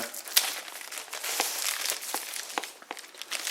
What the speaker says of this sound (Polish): Rączki to tylko z glist, tak podwiniemy tą folię.